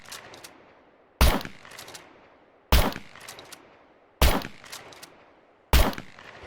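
Four loud, evenly spaced gunshots from a weapon in the survival video game SCUM, each a sharp close blast with a short decaying tail, set against near silence.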